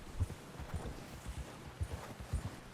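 A solid white wild horse in the video game Red Dead Redemption 2 walks along with soft, rhythmic clip-clop hoofbeats, quiet and fairly close, with no clear whinny.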